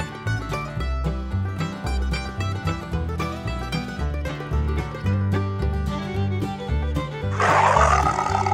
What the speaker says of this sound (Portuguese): Tigre.